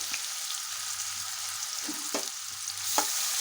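Continuous crackling sizzle of finely chopped onions frying in hot oil with spices for Kolhapuri mutton, with a few soft clinks and stirring sounds, close by and without speech.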